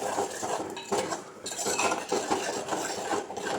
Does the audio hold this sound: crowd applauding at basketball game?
no